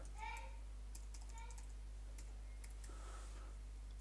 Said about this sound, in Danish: Du taster din kode ind.